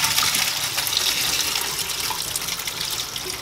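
Steady tap water runs into a sink, rinsing drained cucumbers and onions that had soaked in salt water, a continuous close hiss and splash with no talk.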